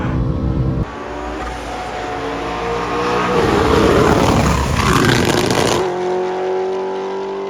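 Supercharged BMW E90 M3 making 750 horsepower roars at high speed on an open Autobahn, its loud sustained engine drone rising in pitch with strong wind rush, briefly dipping then climbing again alone without any talk.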